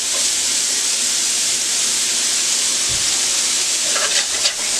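Shrimp for Chinese shrimp fried rice sizzle in hot oil, a loud constant frying hiss filling the whole stretch, with a faint clink of a utensil near the end.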